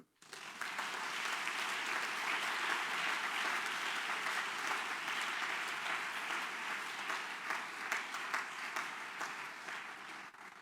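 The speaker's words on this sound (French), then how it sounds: "Acclamons le Seigneur." A church congregation breaks into sustained applause that rises quickly and holds steady and loud throughout, filling the space as a dense wash of clapping.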